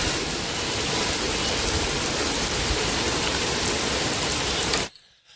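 Steady rain pours down in Feira de Santana, Bahia, a dense continuous hiss of drops on surfaces that holds evenly for nearly five seconds, then cuts off abruptly into near silence.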